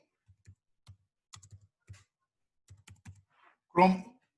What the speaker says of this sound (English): Type in Chrome Web Store.